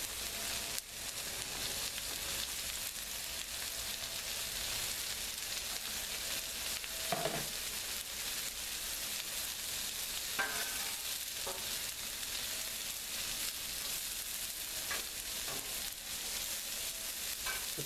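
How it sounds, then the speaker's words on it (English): Mushrooms and onions sauté on a Blackstone griddle with a continuous soft, even sizzle and a few faint scrapes, no talking. "We get our mushrooms and our onions sauteing."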